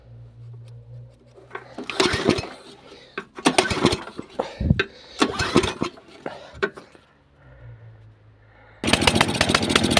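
A snowblower's small gasoline engine cranks on its electric starter and fires, a low steady hum giving way to a loud, bright running roar near the end, with someone talking in bursts over the quieter stretch.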